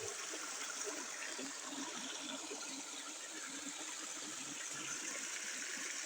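A stream rushes and gurgles steadily in a continuous, fairly faint flowing wash with no pauses.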